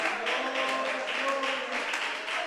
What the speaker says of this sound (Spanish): ¿Cuánto le dan gloria y aplauso?